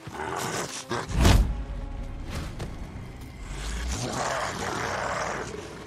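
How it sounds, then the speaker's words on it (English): Wolves in Days Gone let out deep, rough growls, with one louder surge near the start. A steady, noisy outdoor game ambience runs under them. No one speaks. "Oh, yep, we got wolves. I hear wolves growling."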